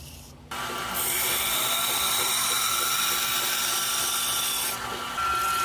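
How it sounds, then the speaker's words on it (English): A belt grinder grinds the swedge of a framelock folding knife blade on a 220 grit belt, a steady loud whirring hiss that starts abruptly and runs continuously with a brief dip near the end. "I've rough ground the swedge in and switched to a 220 grit belt"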